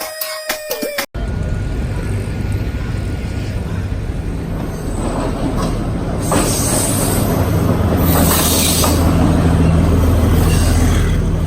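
A train at a railway station: steady, dense rumble and rail noise fill the clip after a brief high tonal sound at the start, with no voices standing out.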